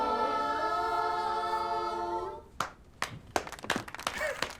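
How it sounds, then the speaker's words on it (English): A man claps in a scene from Daredevil: Born Again, a sustained musical tone fading out before a handful of sharp, uneven hand claps ring out near and distinct. "That shot of him like standing up clapping."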